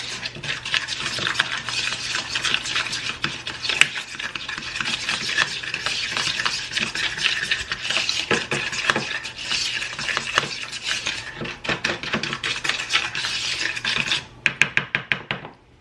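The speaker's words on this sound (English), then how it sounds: "just stir this all together" A thick mixture of molasses, brown sugar and butter being stirred in a bowl during early-morning baking, a steady scraping, sticky churn that runs continuously close to the mic, ending in a few sharp taps near the end.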